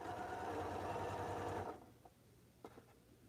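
A sewing machine stitches a quilt with a steady, close mechanical whir for about a second and a half, then stops, leaving a few light clicks and handling noises.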